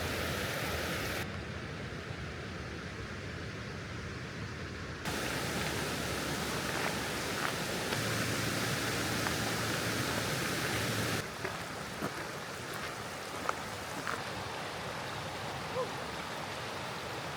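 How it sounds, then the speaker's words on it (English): Waterfall in the Lauterbrunnen Valley, Switzerland, a steady broadband rush of falling water heard close and continuous, with level shifts but no pauses and no talking. "one of the most beautiful waterfalls in the Lauterbrunnen Valley"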